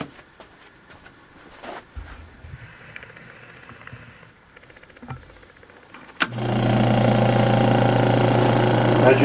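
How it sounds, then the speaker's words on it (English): Air compressor starting up to pressurize a hose and manifold: after quiet clicks and handling noises, a loud steady motor drone kicks in abruptly and runs on continuously. "We're going to turn on the compressor and pressurize just the hose and the manifold up to this point."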